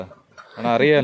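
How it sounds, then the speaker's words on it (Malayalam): Chickens at a poultry farm give a brief burst of clucking toward the end, close and fairly loud, with a person speaking over it. "ഇവിടെ ഒരുപാട് കോഴികളുണ്ട്."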